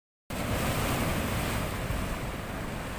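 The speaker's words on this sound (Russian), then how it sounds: "Посмотрите, какие волны." Sea waves break on the shore in a steady, loud wash of surf with wind noise, beginning abruptly after a brief silence and continuing without pause.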